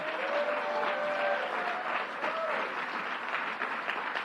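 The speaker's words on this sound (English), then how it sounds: "Let's give our great Manhattan Borough President Gail Brewer a round of applause." Sustained applause from a crowd at an LGBTQ+ Pride event for a Manhattan borough president, even, dense clapping heard at a distance with a faint voice briefly over it.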